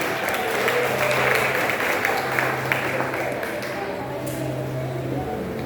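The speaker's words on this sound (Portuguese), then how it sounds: "Só os escolhidos, aplaude ao Senhor." A congregation applauds the Lord during a church doctrine service, a sustained wash of clapping through the room with a steady low hum and speech-like sound mixed in.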